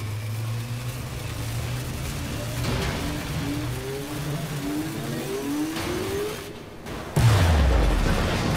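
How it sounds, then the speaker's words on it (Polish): An explosion in the shooter Wolfenstein: The New Order, a loud booming blast near the end that falls into a deep rumble, following rumbling engine-like game noise and scattered background sounds. "Taki wybuch"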